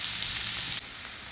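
Sliced onions and peppers sizzle steadily in a hot pan, a bright, close hiss that carries on without a break and softens a little partway through, with no talking.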